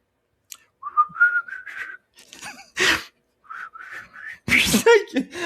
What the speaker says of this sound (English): We're whistling now on the podcast